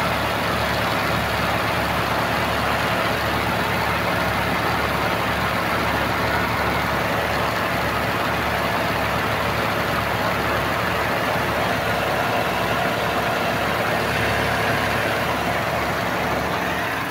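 A car engine idles with the air-conditioning compressor clutch engaged, a loud, steady, unbroken drone with a constant hum throughout and no pauses.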